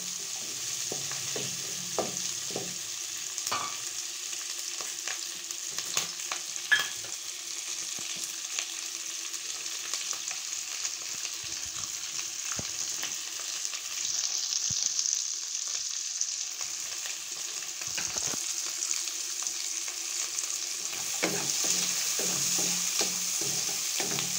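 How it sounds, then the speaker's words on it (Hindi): Capsicum and mixed vegetables frying in a pan, a steady hiss of sizzling oil running throughout with occasional scrapes and clinks of a spatula stirring, close and moderately loud with no talking. "शिमला मिर्च, दो मिनट के लिए इसे करेंगे फ्राई"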